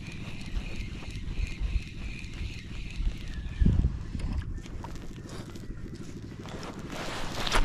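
Steady wind buffets and rumbles around someone fishing from a jet ski on open water, a low continuous roar with gusty swells and a louder thump partway through, no clear voices.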